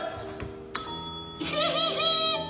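A quick electronic bell chime rings out during a guessing game between players, bright and short, with voices and background music around it.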